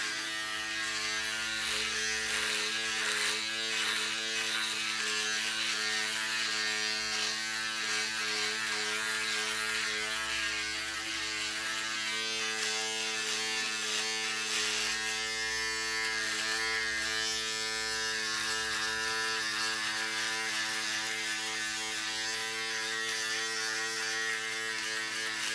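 A cheap electric shaver buzzes steadily and loudly throughout, with a constant motor drone and faint rasping as it cuts hair.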